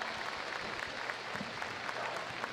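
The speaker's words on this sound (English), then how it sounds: "let's give them a big round of applause for joining us this year" Audience applause at Crufts 2014 for Many Tears Rescue during a rescue dog agility show, a quiet, steady patter of many hands heard from a distance in a large arena.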